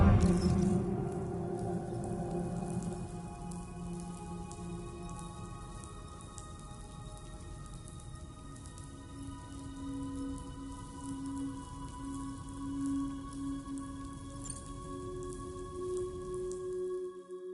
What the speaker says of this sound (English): Those raindrops are falling on my head.